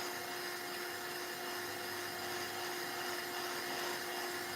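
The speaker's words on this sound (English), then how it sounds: "Move your heat gun a little bit." A heat gun blows hot air in a steady, continuous rush with a constant motor hum and whine, loud and unbroken throughout.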